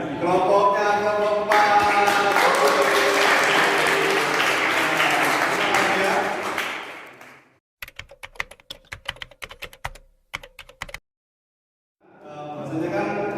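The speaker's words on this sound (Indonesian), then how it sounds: "yang mendapatkan reward adalah kelompok beri tepuk tangan ya" Classroom applause for a winning student group, loud dense clapping that fades out, followed by scattered sharp taps and claps, then clapping resumes near the end.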